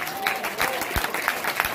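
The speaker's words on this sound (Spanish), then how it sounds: "¿Será que usted le puede aplaudir a Dios?" A church congregation during an evangelist's sermon claps in brief scattered bursts, moderately loud and uneven, while a voice speaks over the clapping.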